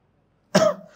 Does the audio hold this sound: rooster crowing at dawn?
no